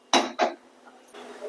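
A metal kadhai is set down on a gas stove with two sharp, close clanks in quick succession, followed by a faint, steady hiss.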